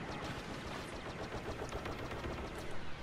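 Blaster gunfire in Star Wars Battlefront, a dense continuous volley of rapid shots with battle noise, moderately distant and fairly quiet, without talk.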